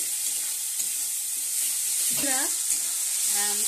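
Ginger-garlic masala for papaya chicken curry sizzling loudly in a pan after a splash of water, a steady bright hiss with occasional stirring scrapes throughout.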